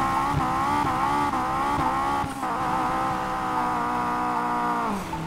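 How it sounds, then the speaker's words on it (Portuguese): In the video game Need for Speed Payback, a car's engine drones loudly and steadily while its tires squeal in long, wavering skids as it struggles to climb, with no other sounds. "tá derrapando muito meu carro!"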